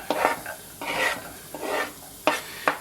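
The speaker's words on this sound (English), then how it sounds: "And I'll saute these for a couple of minutes until the shallots are nicely cooked." Shallots sautéing in butter in a saucepan, close and moderately loud: a steady soft sizzle broken by several scraping stirring strokes and a couple of sharp utensil taps against the pan.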